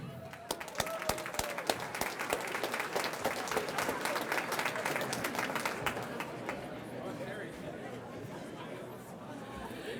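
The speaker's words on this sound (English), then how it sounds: "please give a round of applause" A Rotary banquet audience breaks into lively applause with many crisp individual claps, mixed with crowd chatter, then the clapping thins and fades as voices murmur on in the room.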